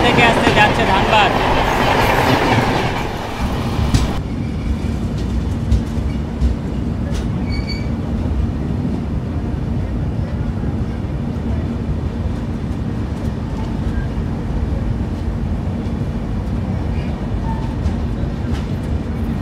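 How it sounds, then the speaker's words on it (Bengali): Train 13352, the Dhanbad Express arriving from Alappuzha, rumbles steadily along the rails with a loud, continuous roar and occasional clatter, a brighter burst of noise at the start before settling into a sustained hum. "train number 13352 Dhanbad express Alappuzha থেকে আসতে যাচ্ছে ধানবাদ"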